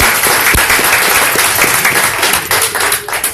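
An audience at a program applauds a speaker, loud close clapping with distinct nearby hand claps standing out from the crowd before it thins and tapers toward the end.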